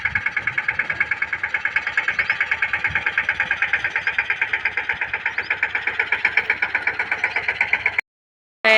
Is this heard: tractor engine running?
yes